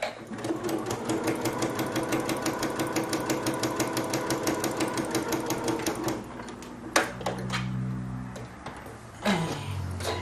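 A Janome embroidery machine stitches a mug rug in a fast, even needle rhythm for about six seconds, then stops, followed by a few isolated clicks and knocks close by.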